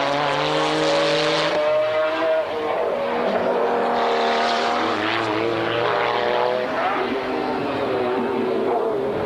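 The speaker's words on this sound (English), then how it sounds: "now in the new customer 993 based GT2 twin turbo. Look at that, pulling away already" A Porsche 993-based GT2 twin-turbo race car pulls away on a racing circuit, its engine a loud, sustained, rising harmonic roar mixed with other race cars, with no talk over it.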